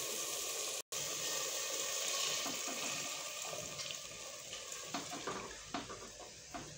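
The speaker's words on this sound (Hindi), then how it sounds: "अब मैं इसके अंदर पानी डाल रही हूँ।" Water pours steadily into a pan of black chickpea curry as it cooks, a continuous splashing, gushing stream close by that turns into stirring and bubbling sounds, with no talk.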